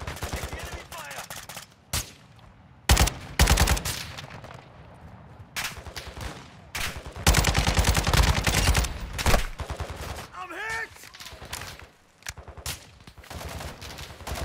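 Gunfire in the video game Call of Duty: Modern Warfare II, set in the Sattiq Cave Complex: repeated loud bursts of automatic fire and single shots, broken by short quieter gaps and a few faint voices.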